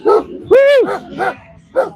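Dogs bark at a political protest: four short, close, loud barks spaced unevenly across two seconds, with one longer, drawn-out bark in the middle.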